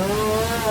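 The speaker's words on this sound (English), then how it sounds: "More chainsaws." Chainsaws revving steadily at a haunted Christmas walk-through attraction, a sustained droning whine with a few layered harmonic tones, moderately loud and continuous through the brief moment with no talking.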